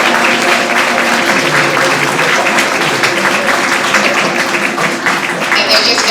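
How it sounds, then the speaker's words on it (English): An audience at a Kwanzaa community evening program applauds four young elementary students with loud, sustained clapping that stays dense and steady for about six seconds. "Please let's give them a round of applause."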